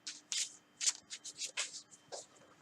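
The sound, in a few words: shuffling playing cards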